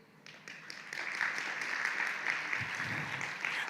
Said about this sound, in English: a round of applause for Ms. Tan